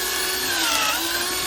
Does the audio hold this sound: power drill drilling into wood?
yes